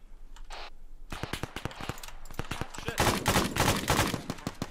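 Video game gunfire in a tactical shooter rattles out as a fast run of sharp, loud shots after a brief pause, building into a denser automatic burst toward the end.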